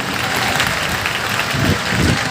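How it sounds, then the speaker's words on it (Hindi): An audience at a Hanuman Janmotsav gathering at Bageshwar Dham applauds to welcome an army battalion, a dense continuous wash of clapping that swells slightly toward the end, with a faint voice mixed in. "जोरदार ताली बजा करके आर्मी की पूरी बटालियन का स्वागत करिए आप लोग"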